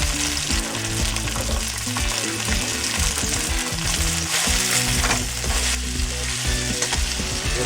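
Red cabbage fries loudly in a spiced pan for a mixed vegetable sabzi, a thick close sizzle layered with repeated clattering stirs and scrapes of the spoon against the pan.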